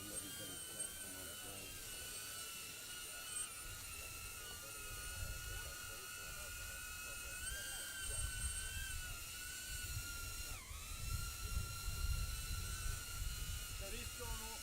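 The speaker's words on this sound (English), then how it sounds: "So this drone also doesn't have to rely on GPS, so it's more of the pilot controlling this drone" A small drone flying outdoors at a public safety event, its propellers giving a steady high-pitched buzz with sustained tonal whine throughout, mixed with crowd noise and people talking nearby.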